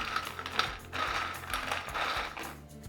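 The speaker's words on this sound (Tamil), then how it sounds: "பாருங்கள் எவ்வளோ முறுமுறுப்பாக இருக்குது இந்த சத்தத்துலேயே உங்களுக்கு தெரியும்" Crispy deep-fried leftover idli pieces crunch steadily, a dense close crackling texture that continues throughout with no speech.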